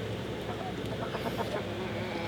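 Rescued former battery hens clucking together on a homestead, a steady low murmur of close clucks with a faint voice in the background.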